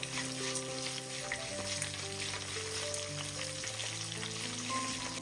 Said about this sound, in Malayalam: ഇനി ഇതിലേക്ക് ആവശ്യത്തിനുള്ള കറിവേപ്പില ഇട്ട് കൊടുക്കുക. ഒന്ന് ഇളക്കി കൊടുക്കാം.